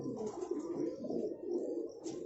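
A golden pigeon coos in soft, repeated low murmurs, a steady throaty rolling that runs through the whole stretch at moderate, close level.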